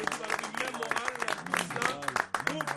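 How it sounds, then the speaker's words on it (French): An audience claps in a dense, crackling burst at a gathering, the applause close and busy with voices talking over it throughout. "On s'applaudit."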